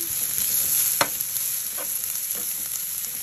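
Garlic and onion frying in a little oil in a pan for pork lumpiang shanghai, a steady close sizzle broken by a few sharp scraping stirs of the spoon, with no talking.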